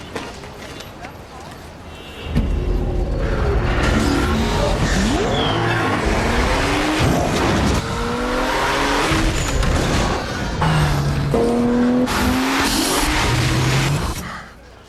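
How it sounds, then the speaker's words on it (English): A 265-horsepower Nissan Maxima roars past in a loud, close engine rush with tire squeal and skidding that swells and fades across several passes, with a voice speaking over it. "The 265 horsepower Nissan Maxima."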